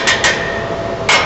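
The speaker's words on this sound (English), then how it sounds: "Slide hammer." Three sharp metallic clanks from a slide hammer striking, two close together and then one after a pause, ring out loudly over faint background noise.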